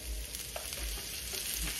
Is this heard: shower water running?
no